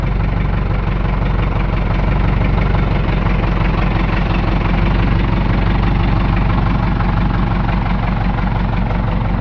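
Mitsubishi 4D33 diesel engine idling after a top overhaul, a steady, close, low rumble with a fast, even knock-like pulse and vibration that holds constant throughout, with no voices.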